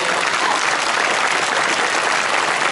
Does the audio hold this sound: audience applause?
yes